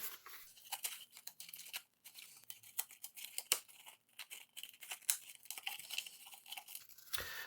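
Cardboard crinkles and scrapes as it is folded into a phone holder, a close, dry run of rustling creases and small crunches with brief pauses, no talking.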